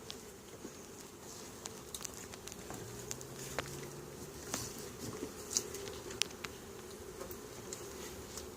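Soft, steady buzzing of bees at a hive hums throughout, with scattered brief ticks and faint patter over a low background drone.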